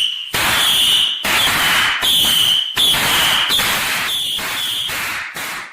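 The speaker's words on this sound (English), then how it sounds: "setting off fireworks in a house is dangerous" Fireworks set off inside a house, with a loud rapid series of crackling bursts about once a second alongside a shrill, alarm-like tone, all close and harsh with no talking.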